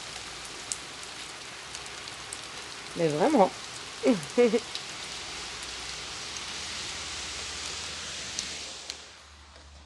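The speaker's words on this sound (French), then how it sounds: "C'est vraiment pénible, cette pluie." Steady rain falling, a continuous even hiss of drops that stops abruptly near the end, with someone speaking briefly over it partway through.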